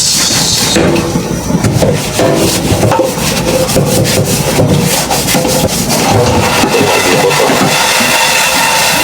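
Loud, close scrubbing with rough, continuous rasping strokes that keep up steadily and without pause from start to finish.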